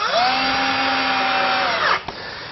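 Power screwdriver driving sash window pulley screws, a sustained high motor whine holding steady for about two seconds, then dropping off with a short click at the end, close and loud with no talk.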